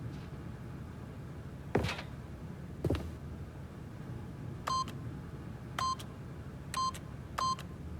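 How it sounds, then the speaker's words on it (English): Keypad PIN code entry beeps in the video game The Stanley Parable: two soft clunks, then four short electronic tones pressed one at a time at an uneven pace over quiet room ambience. "the PIN number for the keypad was 2845"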